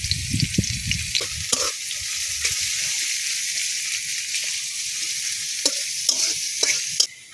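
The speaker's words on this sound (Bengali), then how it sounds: "তো রসুন আর পেঁয়াজ গুলো আমি আগে তেলের মধ্যে দিলাম" Garlic and onion fry in hot oil with a steady, bright sizzle, while a spoon clacks against the pan in sharp, irregular taps; the dish is a village recipe with jackfruit seeds, teasel gourd leaves and dried fish.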